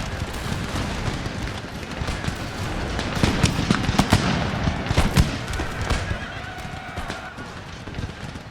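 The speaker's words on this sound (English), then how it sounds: "we're going to have these guys retreat while these two regiments open fire" Musket regiments fire volleys in Empire: Total War, a scatter of sharp cracks and pops over a rumbling battlefield din with horses and distant commotion, loudest in the middle stretch.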